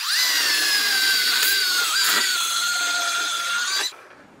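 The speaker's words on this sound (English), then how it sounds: "I'm doing it the lazy way with the quiet chainsaw. So it's just gonna rip right through this in here" A quiet chainsaw rips through a cherished heirloom log while cutting bowl blanks, giving a steady, loud, high-pitched motor whine that holds for about four seconds and then cuts off abruptly.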